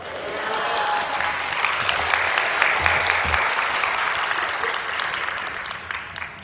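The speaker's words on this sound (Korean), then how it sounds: "박수 치라고 안 했는데 박수 치니까 마음에 드네요." A church congregation bursts into sustained applause during a Sunday worship service, a dense, even clapping that swells and holds for several seconds before tapering off, with no talk over it.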